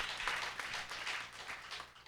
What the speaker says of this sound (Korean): 우리 주일학교 교사 얼마나 수고하는지 박수 해주세요.